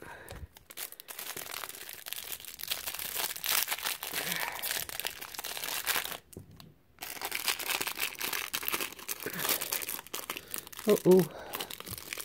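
Plastic wrapping on a 2021 Topps Series One baseball card hanger box crinkles and tears open close by in bursts, dropping briefly to near silence partway through, while a person speaks over it.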